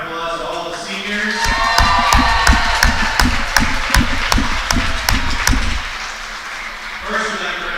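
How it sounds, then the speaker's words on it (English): A crowd in a gym at a girls' high school volleyball Senior Day applauds the seniors, steady clapping and cheering with regular loud slaps or stomps and an announcer's voice over the noise. "So give one round of applause to all the seniors."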